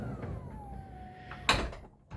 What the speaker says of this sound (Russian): дверь открылась